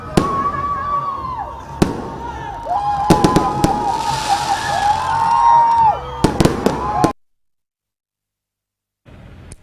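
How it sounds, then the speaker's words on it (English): Fireworks at a stadium opening celebration: sharp bursts and crackling pops scattered over a dense, continuous rumble, with a whistling rise. Everything cuts off abruptly into silence, then a faint sound returns at the very end. "Its opening was climaxed with a fine display of fireworks."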